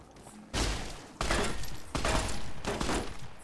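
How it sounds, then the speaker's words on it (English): Enemy gunfire in Fallout New Vegas strikes a player in power armor, loud bursts of rapid automatic fire in four close, separate volleys with brief gaps between them. "you're shooting at me while I have power armor on"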